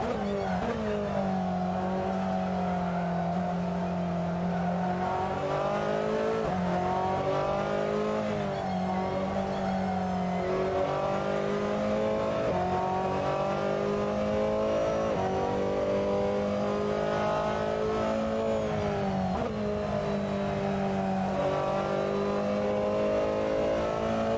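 A Ferrari 488 GTLM race car engine in a racing video game at Spa-Francorchamps. It holds a loud, steady, close roar that rises and falls with acceleration, with brief dips at gear shifts and occasional tire squeal.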